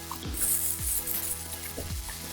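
Spicy tomato sauce sizzling in a pan right after going in, a steady hiss with soft bubbling pops and low thumps, close and without talk.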